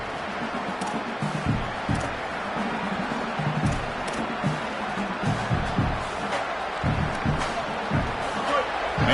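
A college football stadium crowd at Wyoming versus Colorado State roars in a broad, steady wash of noise, with scattered cheers and thumps rising and falling throughout.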